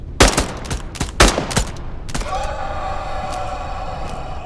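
Gunfire in the video game Into the Radius 2: a few sharp, loud bursts of shots in quick succession, then a lingering hum with a faint distant shot in a quieter stretch.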